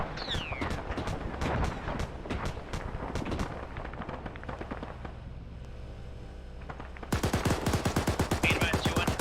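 Repeated gunfire from a Bradley armored vehicle in a military combat video game, sharp shots in uneven bursts at middle distance, easing off midway before a dense, louder rapid volley, with radio chatter faintly underneath.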